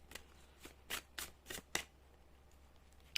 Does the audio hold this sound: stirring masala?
no